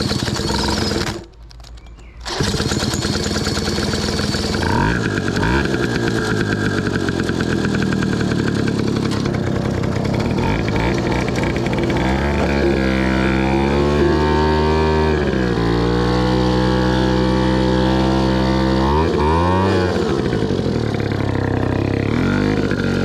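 A cheap Ducati motorcycle more than 40 years old runs close by after a brief cut-out, its old engine climbing and falling through several revs with a rough, steady throb.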